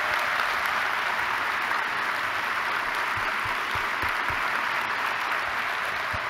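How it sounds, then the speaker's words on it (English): Continuous audience applause at a medical society's opening session, an even wash of many hands clapping at moderate distance, holding steady throughout. "And y'all give John a big round of applause."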